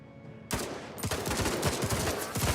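Burst after burst of automatic gunfire in Civilization 7, sharp repeated cracks starting abruptly and continuing densely and loudly to the end, with no talk.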